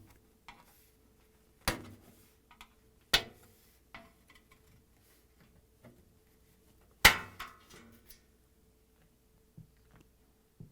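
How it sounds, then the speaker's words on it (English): A flat-blade screwdriver pries the lid seal off a Whirlpool top-load washer, producing sparse sharp clicks and snaps of plastic and metal, a few louder pops separated by quiet pauses, close and without talk. "Bend slightly the seal and pry it off using the flat blade screwdriver."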